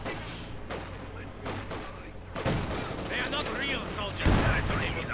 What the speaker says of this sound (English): Snipers opening up, firing away.